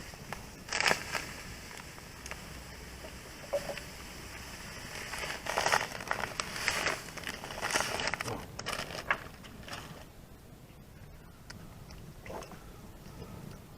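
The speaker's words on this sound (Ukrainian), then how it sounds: "Знаю, що треба пів пакета висипати." Porridge grains pour from a packet into a pot at an outdoor grill, with faint scattered rustling and crackling at low volume and short, sharper bursts throughout, and no voices.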